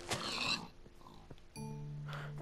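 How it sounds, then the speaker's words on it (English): Pigs oinking in Minecraft, a few short grunting squeals from the game's pig mobs, clear and close, with a brief pause between calls and no speech. "this is a lot of pigs"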